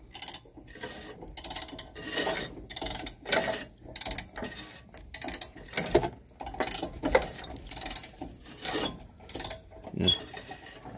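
A steady mechanical clicking and whirring repeats in a rhythmic cycle, like a ratcheting mechanism turning over, from a John Deere LX255 riding mower left abandoned for years, moderately close and without any talk.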